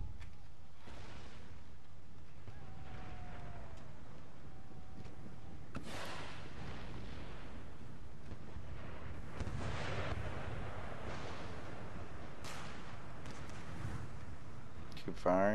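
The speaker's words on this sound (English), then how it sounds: "Please bombard these guys to the next level of existence" Artillery bombardment in a video game battle: a continuous rumble of booms and blasts with scattered sharper bursts, running steadily underneath a voice talking.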